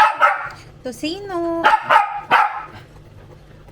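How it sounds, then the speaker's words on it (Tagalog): A dog barks several times in quick succession at close range, its sharp yips mixed with a stretched whine, while people talk nearby in a home kitchen. "Sorry, nasa tahol."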